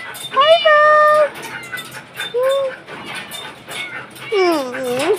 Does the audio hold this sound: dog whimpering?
yes